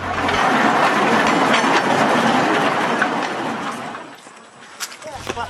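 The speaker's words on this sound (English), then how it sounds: "now only tourists ride the little train to the end" Little tourist train rolling along an old wooden timber jetty, a loud, steady rumbling clatter that eases off near the end, followed by a few sharp knocks and clicks.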